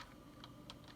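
Soft, close keystrokes tap on a computer keyboard at an irregular pace, each click quiet and crisp, with no voice over them.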